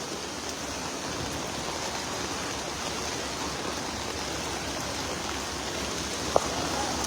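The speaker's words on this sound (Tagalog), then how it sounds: "Kung gaano kalakas yung alon na nandito ngayon. Yung current kasi delikado." Strong floodwater current at a river crossing in a flooded town, a constant broad rushing roar, steady and unbroken, with a single faint click near the end.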